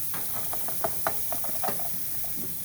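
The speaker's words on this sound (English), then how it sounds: "I'm going to saute those" Vegetables sautéing in a pan beside a tomahawk steak cook, a steady hiss of sizzling with scattered stirring clicks and scrapes, fairly close and moderately loud, with no talking.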